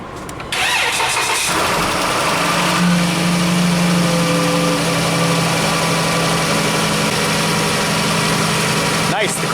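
A car engine cranking and catching after a jump start from a portable Gooloo jump starter power bank, then settling into a loud, steady idle close by.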